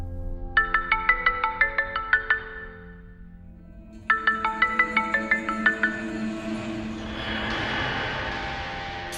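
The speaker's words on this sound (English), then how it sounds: "This time I use the ringtone to trigger the marksman mode." A phone ringtone plays two bursts of quick, repeating electronic chime notes with a short pause between them. A broad rushing noise then swells and continues beneath.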